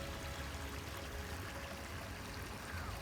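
Small streams murmuring among tall lilies and tall grass at a Croatian resort, a faint, steady, distant wash of running water with no talking.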